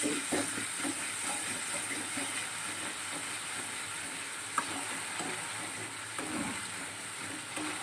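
A hot pan of cooking food hisses and sizzles steadily after a little water is added, a continuous close frying noise with one small sharp tap midway.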